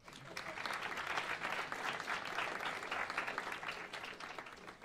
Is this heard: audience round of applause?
yes